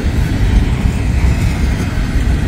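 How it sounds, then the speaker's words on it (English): A long freight train rumbles steadily past nearby, a continuous loud low roar of rolling wagons with no break across the whole stretch and no voices. "This is a long train."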